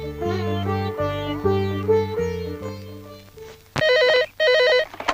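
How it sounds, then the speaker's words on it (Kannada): A telephone rings in two loud electronic warbling bursts near the end, following a stretch of steady musical tones, in a Kannada film scene. "ಪಾರು ಫೋನ್ ಬಂದಿದೆ ಕಣೆ."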